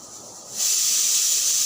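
A kitchen pressure cooker with meat inside suddenly vents steam, a loud, sharp, high hiss that starts abruptly after a quiet moment and holds steady.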